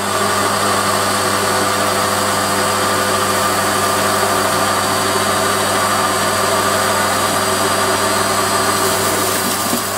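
A Warco lathe running at 700 RPM on a 2-inch bar with a toolpost grinder, giving a steady continuous mechanical drone and hum with no breaks, close and fairly loud throughout.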